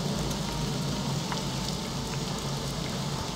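Steady rain in the video game Morrowind, a soft, even hiss of falling drops at low level with faint scattered patters and no voices.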